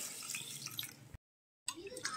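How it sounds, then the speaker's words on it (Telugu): Basmati rice being rinsed in water for Hyderabadi chicken dum biryani, with steady running and sloshing water that breaks off into a short silence before resuming, close and moderately loud. "ఇప్పుడు వీటిని వాటర్ వేసుకొని శుభ్రంగా కడుక్కోవాలి."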